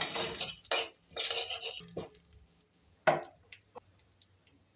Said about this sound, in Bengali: কিছুটা গোটা জিরে দিয়ে ভালো করে একটু নাড়িয়ে চাড়িয়ে নেব